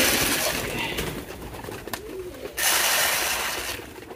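Pigeons coo softly and repeatedly while being fed their food, close by, over a steady background hiss with a brief clatter partway through.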